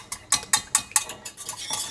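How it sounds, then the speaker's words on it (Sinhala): A whisk clinks rapidly against a bowl while mixing melted butter with a dried thyme mixture for a ham glaze, giving a fast, loud, close series of rhythmic metallic taps. "එකතු කරලා ඒක පොඩ්ඩක් විස් කරගන්න ඕනේ."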